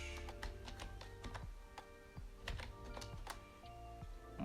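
Rapid clicking of computer keyboard keys while HTML code is written, an uneven stream of close taps in short bursts with brief pauses, with no talk over it.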